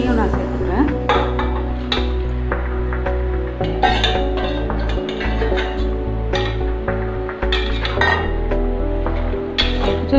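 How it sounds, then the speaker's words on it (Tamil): A spoon stirs and scrapes through homestyle mutton biryani ingredients in a metal cooking pot, making steady close clinks and scrapes over a soft sizzle, with a voice talking now and then. "சேர்த்துட்டு எல்லாத்தையும் நல்லா மிக்ஸ் பண்ணுறேன்"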